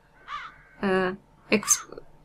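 Crows in The Dark Eye video game give three separate harsh caws, close and loud against a quiet background.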